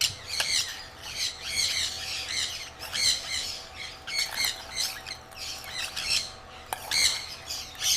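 Sun Conure parrots on a large breeding farm give repeated harsh, shrill squawks in overlapping bursts, several birds calling together at moderate distance with brief pauses between outbursts.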